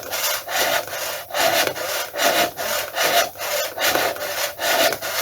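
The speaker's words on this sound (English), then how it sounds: "I'm using my balsa wood saw, and I'll probably wreck it, but I want the finer blade as possible." A fine-bladed balsa saw cuts through the cowl of a 1/6-scale Tiger Moth model, making steady rhythmic rasping strokes, about a dozen back-and-forth passes close up with no talking.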